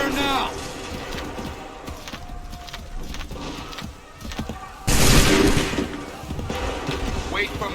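A volley of musket gunfire erupts in the Assassin's Creed 3 video game, one loud, broad blast from many guns at once after shouted commands and battlefield noise.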